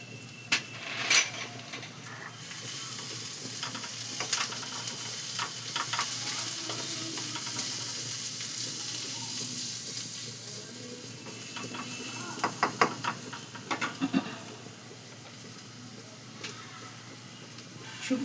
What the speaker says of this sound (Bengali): এই যে রসুন থেতো করে রেখেছিলাম সেই রসুন পেস্টটা দিয়ে দিচ্ছি